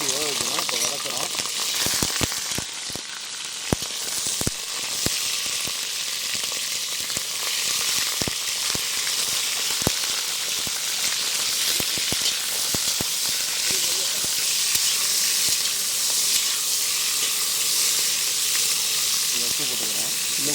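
Quail sautéing in hot oil for quail masala, a loud, dense crackling sizzle with frequent sharp spatula clacks against the pan, close and continuous, with occasional voices.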